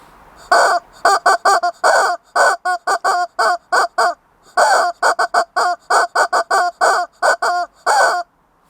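A chicken calls loudly and close by in a long run of rapid, choppy bursts grouped into repeated phrases with brief pauses between, lasting about eight seconds with no other sound.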